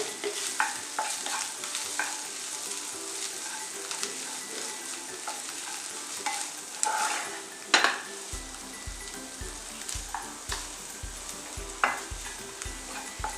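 Spices, tomato sauce and other ingredients are being stirred in a pan with a soft, fairly quiet sizzle and scattered utensil clinks, and background music comes in partway through.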